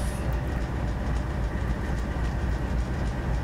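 A train rolls through an Open Rails simulator route on the Linha do Centro / Ferrovia do Aço line, pulling out of the yard at low speed, with a steady, close, unbroken rumble of wheels and rail noise throughout.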